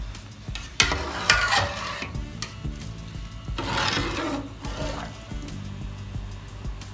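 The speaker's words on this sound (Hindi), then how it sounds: "एक मरतबा हम इसमें चमचा चला देंगे" A spoon stirs rice in a cooking pot for a biryani, making scraping, rubbing strokes against the pot with light bubbling and sizzling beneath, close and fairly steady with louder swishes.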